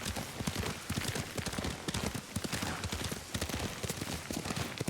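Horse hooves galloping in the video game Ghost of Tsushima, a rapid continuous clip-clop rhythm at moderate level with no talk over it.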